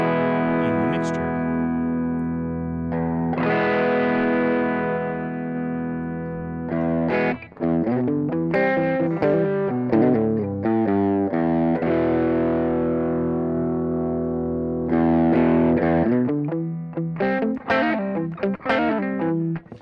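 An electric guitar through a Boss GX-10 blending distortion and clean signals plays sustained chords and notes with a gritty distorted tone blended with cleaner sound, ringing steadily with brief pauses.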